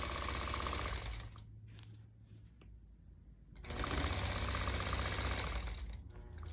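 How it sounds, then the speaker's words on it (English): A long-arm quilting sewing machine stitching in the ditch along the seams of a disappearing nine-patch quilt, a fast steady mechanical whir that drops away briefly in the middle and then returns at full strength, close up with no voices. "I'm going to stitch in the ditch, down these seams, around the whole thing."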